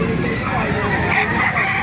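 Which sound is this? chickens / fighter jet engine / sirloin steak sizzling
chickens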